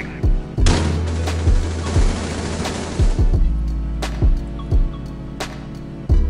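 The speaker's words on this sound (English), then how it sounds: "He just opened fire and killed us" Repeated bursts of automatic gunfire in Rainbow Six Siege, a sustained loud volley over the first few seconds followed by separate sharp shots spaced irregularly, with no talk.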